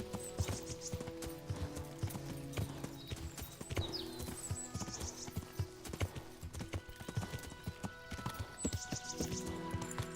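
Horse hooves clip-clop steadily and close in Kingdom Come: Deliverance, a rapid even gait with a faint whinny among ambient game sounds and no talking.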